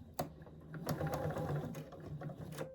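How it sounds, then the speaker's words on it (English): A sewing machine stitches a quilted Christmas tree wall hanging, giving a steady mechanical whir with rhythmic clicking needle strokes, close and fairly quiet, with no voices. "So you should sew right down the middle."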